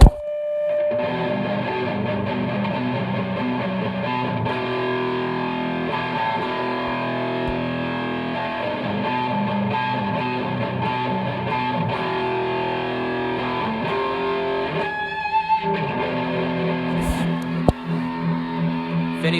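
Heavily distorted electric guitar plays sustained riffs and licks, loud and continuous through an effects unit, with a brief break near the end before playing resumes.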